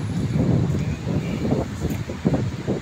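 Steady outdoor wind gusting across the microphone on a hot day, a low continuous rumble with soft swells and buffets throughout, no voices.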